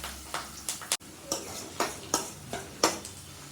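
Onion sizzling in hot oil with mustard seeds and curry leaves in a pan for egg gravy, soft steady frying hiss with a few sharp crackles and pops spaced through, fairly quiet and close, no talk.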